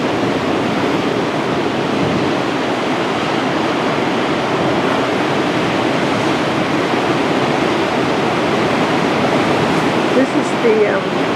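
On Puerto Rico's north coast, Atlantic breakers churn against the shore in a continuous close roar, with wind buffeting the microphone and a brief extra surge near the end.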